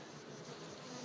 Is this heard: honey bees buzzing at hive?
yes